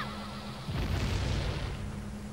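Bomb explosion in The Legend of Zelda: Ocarina of Time, a deep rumbling boom that swells after a short lead-in and rolls on as a broad, sustained roar.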